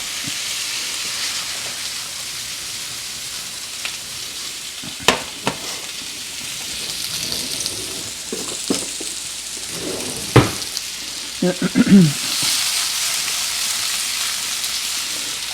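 Shrimp and vegetables searing in a hot pan, a continuous close hiss of sizzling broken by several sharp scrapes and knocks of stirring, with no talk.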